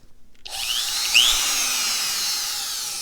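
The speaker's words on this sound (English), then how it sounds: "let's try this little router trimmer" Small router trimmer powered from a SANFOU portable power station, spinning up abruptly from silence into a loud, high, steady whine with a brief rising sweep as it reaches speed.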